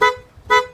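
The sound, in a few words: stock car horn being tested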